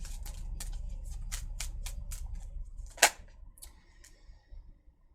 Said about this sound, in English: I am going to shuffle until we get something clear to drop for you